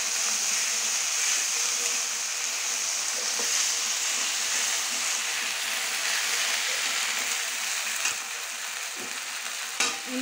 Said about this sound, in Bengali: এটা আমি একটু ভালো করে কষিয়ে নেবো।